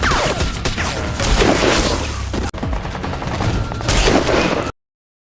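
Sustained gunfire in a war film about a sniper mission against Georgian military troops, loud, dense volleys with booming shots packed together, a brief break midway before the shooting resumes.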